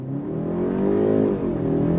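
A 2025 BMW 530i sedan accelerates hard under launch control, engine pitch rising quickly then dipping briefly as it shifts on paddles, loud and close.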